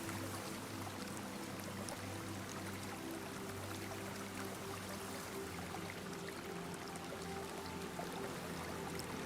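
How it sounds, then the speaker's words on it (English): A small stream rushes over pale pebbles and stones in a pine forest, giving a soft, steady, continuous watery hush with a faint low hum underneath and no voices. "Far ahead, you hear the soft rush of a stream crossing the path."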